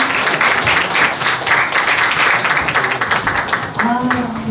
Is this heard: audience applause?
yes